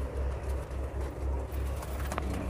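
Teddy pigeons coo in low, rhythmic, repeated pulses close by, a soft throaty burbling that continues steadily without any speech.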